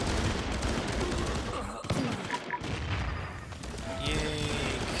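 Automated turrets in a video game fire at enemies in a dense, continuous barrage of rapid gunfire with booming impacts, loud and close throughout, accompanied by a brief voice.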